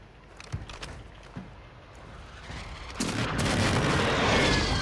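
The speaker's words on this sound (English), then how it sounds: "Friendly precision airstrike inbound." A precision airstrike in a video game: a couple of thumping hits, then a swelling, sustained roar of blasts and rumble that grows louder and stays dense to the end.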